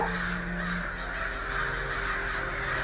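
Several crows caw in a loud, steady series of harsh alarm and scolding calls, a mobbing chorus gathered around a dead crow, continuous through the clip over a constant low background hum.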